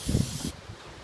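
Brake cleaner sprayed onto an oil sump plug from a car, a short sharp aerosol hiss that cuts off abruptly halfway through, leaving faint rustling.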